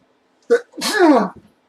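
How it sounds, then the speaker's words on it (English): A single man's sneeze, loud and close, with a short sharp intake of breath followed by a longer explosive burst, alone without talk. "I'm sorry, but I'm going to sneeze,"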